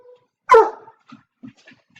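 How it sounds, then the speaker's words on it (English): A dog barks once, loud and close, in a quiet indoor room, then gives a few soft whimpers and yips. "Ignore my dog."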